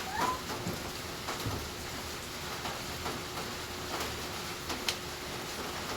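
Steady, soft rainfall patters on a surface, with scattered clearer drops ticking through a faint, continuous hiss.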